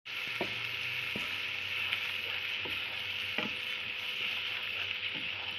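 A spoon works rice with added tomatoes around a cooking pot, giving soft scraping knocks at an irregular rhythm over a constant sizzle, close and fairly quiet.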